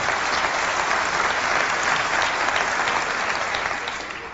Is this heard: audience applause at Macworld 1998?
yes